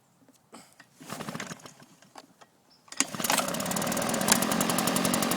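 A gas leaf blower being pull-started with the choke closed: a few rattling cord yanks and sputters, then the small engine catches and roars into a loud, steady running drone.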